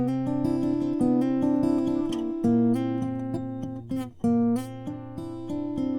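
Bright strummed guitar chords from the chorus of a song, played with a capo, ring out in a steady rhythm, with a brief pause near the end before the strumming resumes.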